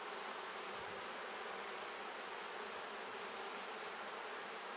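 Honey bees swarm around an open beehive during a honey super inspection, a dense, steady buzzing drone of many insects filling the clip, close and continuous with no talking.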